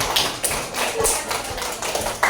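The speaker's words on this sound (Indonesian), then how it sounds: "Kita beri aplaus yang sangat meriah untuk kelompok 3." A classroom group receives applause from students, a dense continuous patter of clapping with sharp claps standing out, fairly loud and close throughout.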